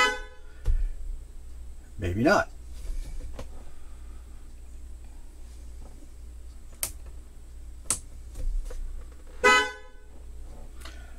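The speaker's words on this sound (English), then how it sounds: "let's give both the air horn and the regular horns are hooked together" An RV's air horn, wired to the regular vehicle horns, sounds in several short blasts inside a shop, with quiet stretches between them and someone speaking briefly.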